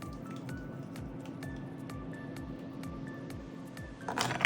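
Thick ezme sauce poured into a bowl, a string of soft wet squishes and plops in a slow irregular rhythm, close and moderately quiet, ending with a brief louder splash.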